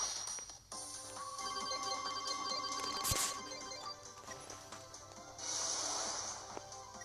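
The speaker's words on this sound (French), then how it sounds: "arrête de biper, téléphone" Phone beeping beside mobile game play, a sustained electronic tone with a sharp click or snort partway through and a hissy burst of game noise near the end.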